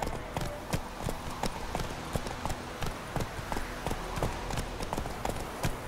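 Geralt's horse Roach gallops in The Witcher 3: Wild Hunt, hooves pounding in a quick, steady rhythm of sharp clip-clop hits with a low rumble beneath.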